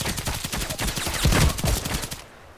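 Rapid automatic gunfire in the online shooter Contract Wars, a loud continuous stream of closely spaced shots lasting a couple of seconds before cutting off abruptly.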